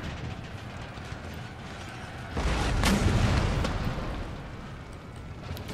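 Massed musket volley from line infantry in Empire: Total War, a broad rumbling burst of fire swelling mid-clip and tailing off over steady battlefield noise.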